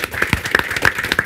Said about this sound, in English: I would like to ask for big applause to our speakers.